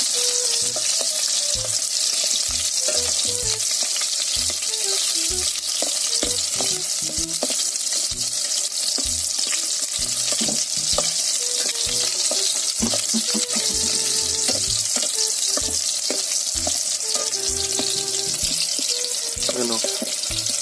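Squid sizzles steadily in a hot frying pan, with a continuous bright crackle of oil and repeated knocks and scrapes from stirring throughout.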